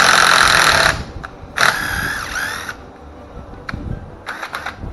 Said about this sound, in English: the little hammers start to vibrate and give me a little more torque